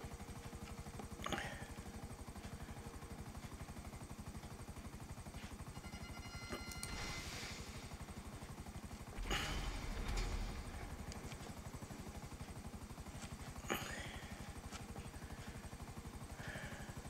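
Helicopter rotor chop in the video game GTA 5, a quiet, steady thrum running throughout, with a few brief clattering bursts and louder swells along the way.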